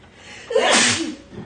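A single sharp human sneeze bursts out in a room where a PC is being upgraded, rising from a breathy intake into a loud, harsh expulsion that fades within a second.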